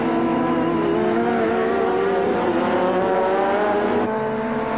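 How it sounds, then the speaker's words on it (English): Touring cars race at the Jerez circuit, Alfa Romeos and a white BMW among them, their engines roaring loud and steady throughout and rising and falling as they fight for position. "Villamil, in the second of the 2 Alphas there, is doing an excellent job of defending Adrian Campos from attack from Alain Ferte in the white BMW."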